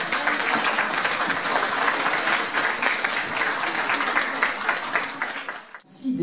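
An audience at a public meeting in Rouen claps for an introduced speaker, a broad, sustained wash of many hands from a large crowd that thins out near the end.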